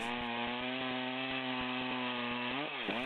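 A chainsaw begins a cut into a log and runs at a loud, steady buzzing idle with a rhythmic chain pulse, its pitch dipping briefly near the end under load.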